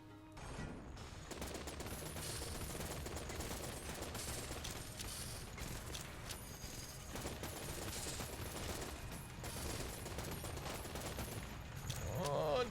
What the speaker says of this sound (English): the combined rifle works so well against this boss